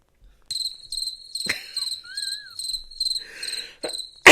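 Cricket chirping effect, loud close pulsing trills in regular bursts, with a brief whistle-like tone in the middle and a few rustles.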